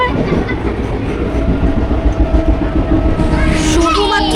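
From inside a moving passenger train, a loud, steady rumble with rhythmic wheel clatter on the rails runs throughout, with faint voices now and then.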